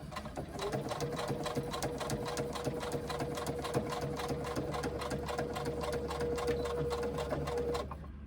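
Sewing machine stitching binding on a fabric pouch, running steadily with rapid, even needle strokes for about eight seconds, close and fairly loud, then stopping.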